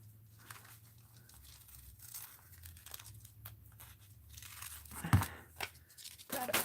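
Scissors snip through paper for a mixed-media art journal, a few soft close cuts and crinkles with a sharper rustle near the end, quiet and without talk.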